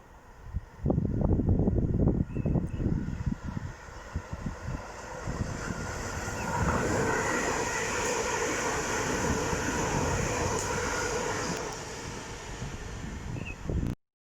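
A Class 350 electric train rushes past nearby on the London Euston–Liverpool Lime Street line, a loud sustained roar of wheels and rattling carriages with wind buffeting, fading abruptly at the end.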